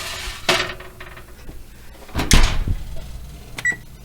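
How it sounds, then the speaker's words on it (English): An oven door bangs open, and a baking sheet covered in foil clatters in before the door thumps shut a moment later. Sharp, close kitchen knocks sound in an otherwise quiet room. "Popping it in the oven."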